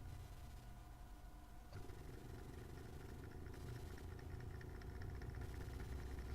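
A Bedini Mark 2 motor, a small electric motor driven by coils with a full-wave rectifier, hums and buzzes faintly and steadily, its tone shifting as it spins up and accelerates.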